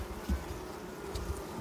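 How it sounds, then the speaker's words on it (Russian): Honeybees buzz around a hive while two bee colonies are being merged, a faint, steady insect drone with a few soft low bumps and nearby wing hums, no talking. "Тут уже подлетели пчелки, какие отсюда, какие, наверное, с той семейки."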